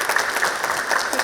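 A big round of applause from the audience following a panel discussion, dense clapping held steady and close throughout, with no pauses.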